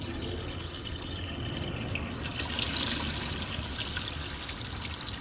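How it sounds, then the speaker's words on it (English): Water runs steadily into a bucket as it fills, a continuous close rushing and splashing stream that holds at an even level throughout, with no talking. "I usually just fill up this bucket like this"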